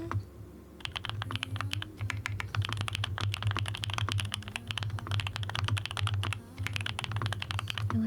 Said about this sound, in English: so we can have lots of different variety for our keyboard ASMR